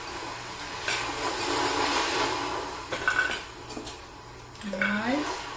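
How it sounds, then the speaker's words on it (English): Metal silverware clinks and rattles as it is dropped into a picnic pail, a few scattered clatters over background noise, followed by a brief voice. "I'll put some silverware in here."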